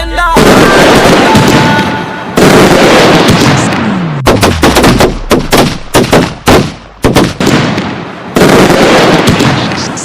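Firecrackers and bombs burst loud and close during a Diwali song, dense crackling volleys giving way to a string of sharp separate bangs, then another roaring volley.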